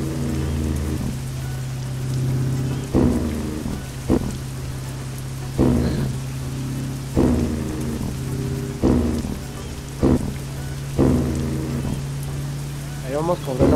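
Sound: heavy rain downpour in a truck driving video game

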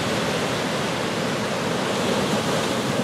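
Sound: ocean waves at the beach, Port Ouest, Réunion

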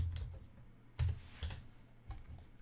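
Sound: typing a password on a computer keyboard

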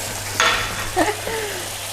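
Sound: stirring kashar cheese into keşkek in a pan

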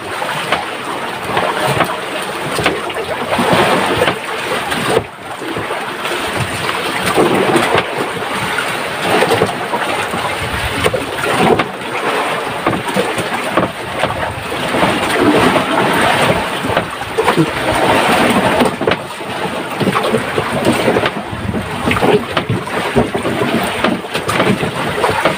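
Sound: heavy rain and thunder on a boat at sea

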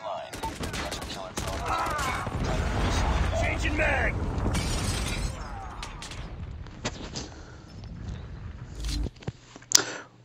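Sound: 50 GS sniper rifle gunfire in video game Rust

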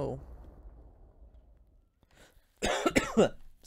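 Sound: cough

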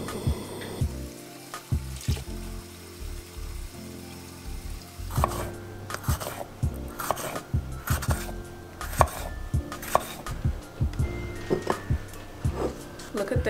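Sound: chopping king oyster mushrooms with a knife

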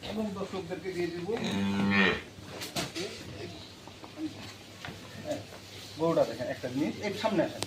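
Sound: cow mooing

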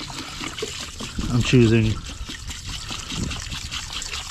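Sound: pouring trailer strap deicer solution into a container

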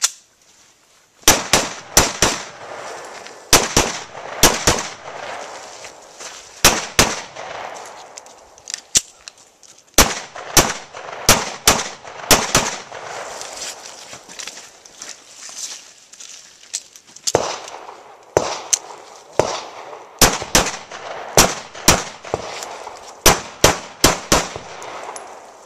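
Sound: gunfire during shooting drill

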